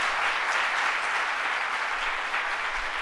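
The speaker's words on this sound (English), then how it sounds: "let's give them a round of applause for their leadership on these issues" Steady applause from a crowd at an announcement by New York Governor Kathy Hochul, dense clapping that holds evenly throughout without pause.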